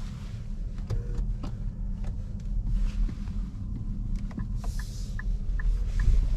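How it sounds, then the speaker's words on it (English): Quiet cabin of a 2023 Nissan ARIYA 63 kWh Evolve electric car while driving, with a steady low road rumble and hum, faint ticks and small creaks, and no engine noise. "So nice and quiet in here, as expected from an all-electric vehicle."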